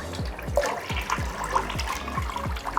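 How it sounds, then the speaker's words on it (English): A VitrA V Care 3 Prime Japanese-style smart toilet flushes after a button press, a steady close rush of cistern water draining into the bowl with a rhythmic pulsing gurgle, no voices. "I can actually make it flush just by pressing this button"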